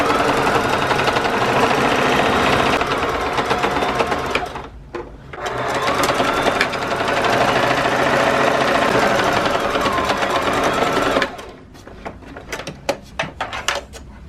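A sewing machine quilts an X pattern across fabric for a bowl cozy, running in a steady loud mechanical whir with two brief pauses between stitching runs.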